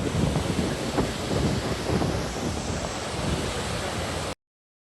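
Continuous roaring rush of a waterfall near Manali, falling between two hills, broad and steady like surf, with some wind buffeting the microphone, cutting off abruptly near the end.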